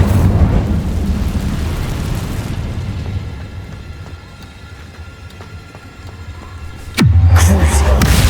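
Incendio fire spell cast in Hogwarts Legacy, a loud roaring whoosh of flame with a deep rumbling body, fading then bursting again near the end.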